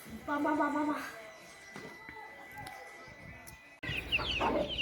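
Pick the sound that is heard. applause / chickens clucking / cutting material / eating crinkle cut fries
chickens clucking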